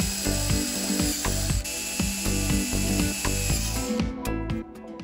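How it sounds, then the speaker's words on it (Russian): A drill grinds steadily through a knife handle with a rhythmic, pulsing chatter, loud and close, winding down near the end. "И в полученное отверстие сверлим еще."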